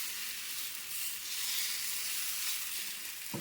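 Dosa-style batter sizzles on a hot pan, a steady bright hiss that runs unbroken and close, with no voices over it.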